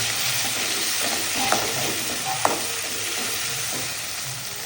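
Tomatoes go into a pan of frying onions for a kofta curry, under a constant close sizzle with a couple of faint utensil clicks.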